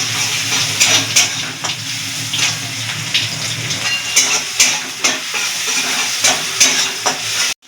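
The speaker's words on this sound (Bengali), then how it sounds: "পেঁয়াজটা একটু নাড়াচাড়া দেবো" Onions frying in a pan for a fish curry, a loud continuous sizzle with rhythmic scraping strokes as they are stirred, close up and without talk.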